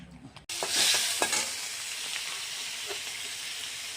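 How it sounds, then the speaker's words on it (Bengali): Onion, garlic and chopped green chilli hit hot oil with a sudden loud sizzle that settles into a steady, bright frying hiss, broken by a few faint stirring clicks. "এখানে তেলের মধ্যে আমি পেঁয়াজ, রসুন, কাঁচা লঙ্কা কুচি দিয়ে দিয়েছি। এটা একটু ভাজা ভাজা হলে"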